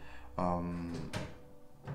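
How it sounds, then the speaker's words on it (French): A cat scrabbles at and bumps a cupboard door indoors, a few close, sharp knocks and rattles while a person talks nearby. "mon chat, qui essaye d'ouvrir le placard"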